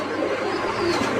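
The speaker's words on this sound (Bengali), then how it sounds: "এইখানেও আরেক জোড়া লালমুখী কবুতর, সাথে বাচ্চা আছে একটা।" Red-faced pigeons in a cage with a chick, a soft, steady cooing close by against a constant background hum, no talk.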